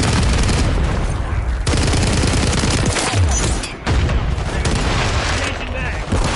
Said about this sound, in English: Tossing Semtex.